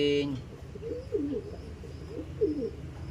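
A dove coos softly a few times in a low, rolling rhythm against quiet outdoor background.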